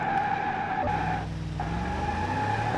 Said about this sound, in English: Let's try out the handbrake here just real quick.